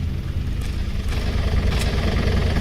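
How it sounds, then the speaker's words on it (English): A car engine runs steadily outside in the video game Dwinkus, a loud, continuous low rumble with slight fluctuations and no pauses. "Why is the car making noise now?"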